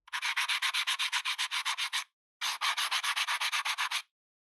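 Wet sanding of a concrete surface taken up to 220 grit, a rapid run of rhythmic rasping strokes that stops briefly, then resumes for another dense run, close and steady with no talk.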